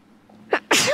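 A single sharp sneeze, close and loud, with a short intake followed by the explosive burst in a quiet room.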